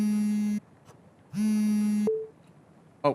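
A cell phone rings in the video game Love, Sam, sounding as loud, sustained electronic tones in two long bursts separated by a pause, then a short blip at the end.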